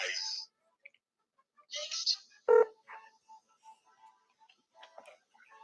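A telephone dials out to a voicemail line, giving a string of short, soft beeps and ticks spaced through quiet gaps, with bits of voice between them.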